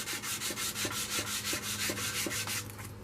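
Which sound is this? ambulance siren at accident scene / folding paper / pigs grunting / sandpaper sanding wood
sandpaper sanding wood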